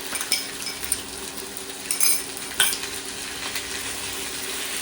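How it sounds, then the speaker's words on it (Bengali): Chopped tomatoes frying with chicken in a pan give a steady close sizzle, broken by a few sharp clinks and scrapes of a utensil stirring against the metal. "টমেটো কুচিটা দিয়েও আমি এবার এর একটু ভাজবো"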